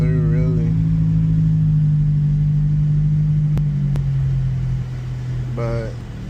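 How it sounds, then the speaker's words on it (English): A car drives along steadily with a low, constant engine and road rumble throughout, and a voice briefly sounds at the start and again near the end. "Just driving through, really."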